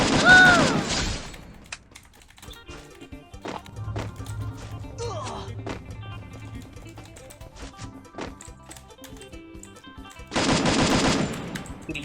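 Rapid automatic M4 rifle fire from the video game Free Fire rattles in loud bursts at the start and again near the end, with quieter game sounds and faint taps in between.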